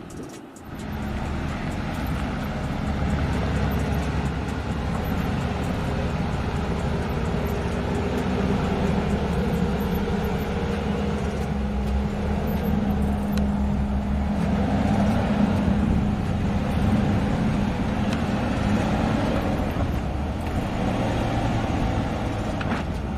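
Range Rover with a supercharged 5-litre V8 on an off-road obstacle course, air suspension raised, engine held at high revs in a loud, steady, sustained drone with a slight rise early on, no voices.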